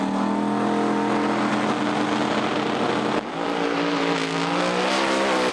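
A Pro Mod drag race car at Santa Pod Raceway roars loudly and continuously, its engine note holding steady then dropping slightly as it shifts, with no talk.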